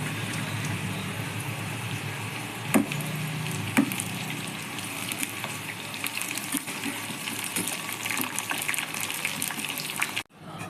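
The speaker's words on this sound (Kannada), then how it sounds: "ಈಗ ಎಣ್ಣೆ ಕಾದಿದೆ, ನಾವು ಕಟ್ ಮಾಡ್ಕೊಂಡಿದ್ದು ತುಕಡಿನ ಹಾಕ್ಕೊಂಬಿಡೋಣ" Tukdi, also called shankarpali, is a rolled, cut dough snack deep-frying in hot oil. It gives a steady, dense, close sizzle and crackle for about ten seconds, with a couple of sharp clicks partway through and a brief drop-out just before the end. No voices.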